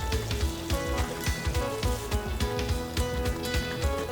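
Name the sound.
fish fillets simmering in tomato sauce in a pan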